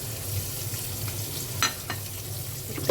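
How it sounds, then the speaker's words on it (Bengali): Sliced hot dogs frying in a pan for fried rice, a steady close sizzle with faint stirring scrapes and small pops, no voices. "হটডগগুলো দিয়ে দিলাম"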